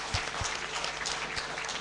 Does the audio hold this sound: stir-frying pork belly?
no